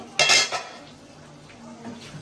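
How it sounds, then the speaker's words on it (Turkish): A metal cooking pot lid clanks loudly as it is lifted, followed by a softer clink and quiet kitchen background. "yemeğime bakmak için açıyorum tenceremi"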